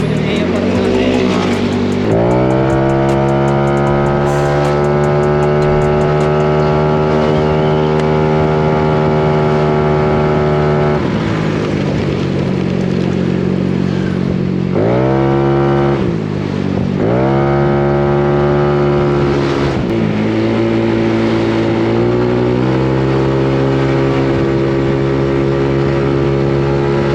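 Tuned Yamaha Mio i 160cc scooter engine with an Aracer RC Mini 5 ECU revving loud and close, held at steady partial throttle with several brief dips and surges to higher revs, running continuously.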